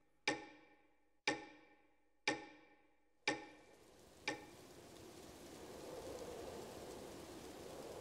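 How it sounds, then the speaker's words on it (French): A clock ticking slowly and steadily, five sharp, close ticks about a second apart, fading into a soft hiss of room tone. "comme le tic-tac de son horloge préférée"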